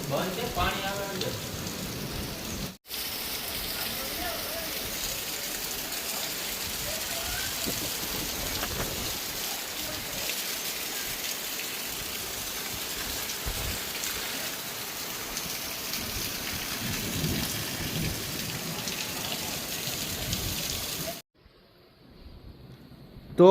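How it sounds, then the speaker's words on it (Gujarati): Good morning rainfall pours steadily with deep rumbles of thunder rolling underneath, a dense close hiss of drops that cuts out briefly near the start and end. "આજે બહુ જોરદાર તો ન કહી શકાય પણ સારો એવો વરસાદ થઈ ગયો છે"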